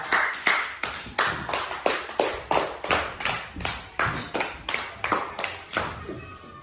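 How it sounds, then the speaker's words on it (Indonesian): Claps from a classroom group marking the end of a presentation on the fourteen Stations of the Cross, heard as evenly spaced sharp hand claps in a steady rhythm, each a separate crisp strike, fairly close and moderately loud. "Tepuk tangan untuk kelompok A."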